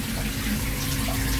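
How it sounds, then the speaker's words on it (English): Water runs in a steady, close rush of splashing flow, continuous for the short moment with no voices over it. "you can hear water running"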